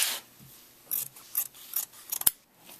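Scissors snip through folded fabric for a skirt in several quick, close rasping cuts, each a short crisp burst with brief pauses between.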